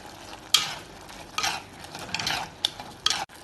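Prawn curry being stirred in a pan, several separate scraping and clattering strokes of a spoon against the pan over a low sizzle, fairly quiet with no speech.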